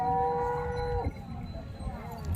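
A Khillar bull in a village in Dharashiv moos once, a loud, close, drawn-out low call that fades into quiet farmyard background.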